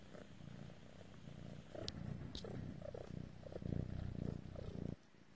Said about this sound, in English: My cat just came to say hello.